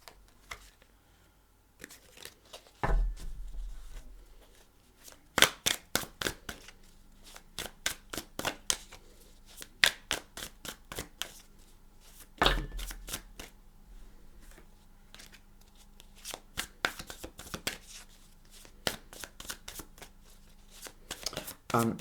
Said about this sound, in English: But I want to shuffle first.